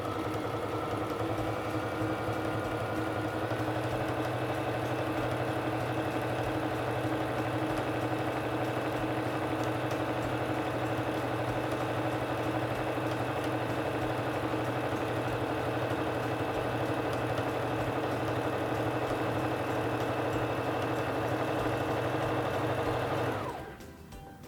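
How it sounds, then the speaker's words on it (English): A Singer Fashion Mate 3342 sewing machine stitching a feather stitch, a steady, close motor hum with rapid needle clatter running continuously for over twenty seconds before stopping, with no speech. "I'm going to place my fabric under the presser foot and lower it,"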